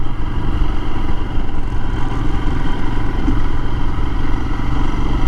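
A Royal Enfield Himalayan motorcycle ridden over a bumpy road: a loud, steady engine drone with rumbling and buffeting throughout and no clear breaks.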